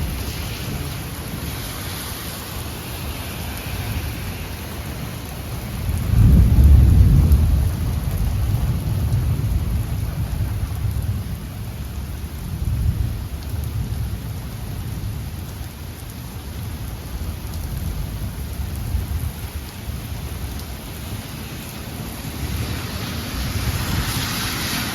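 A severe thunderstorm during a tornado warning: a heavy thunder rumble swells early, then low rumbling and steady rain wash with gusty wind continue throughout, loud and enveloping with no talking.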